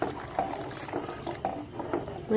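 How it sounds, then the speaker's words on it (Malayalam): Cow's milk pours and splashes into a pot with repeated soft gurgling pulses, close and steady, no talking. "ഇതിലേക്ക് ഒരു ഗ്ലാസ് പശുവും പാൽ ഒഴിക്കും"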